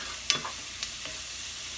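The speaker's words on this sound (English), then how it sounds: "You can hear the onions cooking." Onions frying on a grill, a steady close hiss and crackle of sizzling with a few brief pops and scrapes, no talking.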